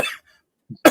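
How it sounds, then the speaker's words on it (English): A single person coughs near the microphone: a short harsh burst at the start, a pause of silence, a faint throat sound, then another loud, broadband cough at the end. "I'm going to go have a coughing fit now"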